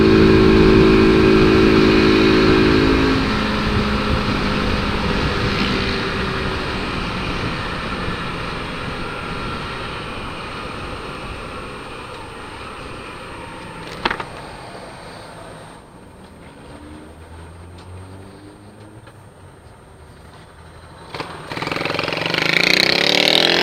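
A motorcycle engine hums and revs while riding in traffic, with rushing wind noise that fades lower, then rises again with a sudden burst near the end.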